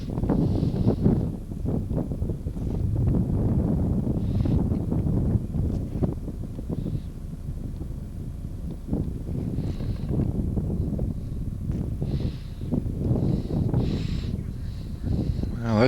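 Strong gusts buffet the microphone on the High Point golf course during a 1979 member-guest tournament, a continuous low roaring rumble that swells and eases throughout.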